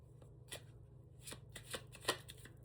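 A deck of oracle cards shuffled by hand, soft quick riffling bursts repeating at close range for a few seconds, quiet and without speech.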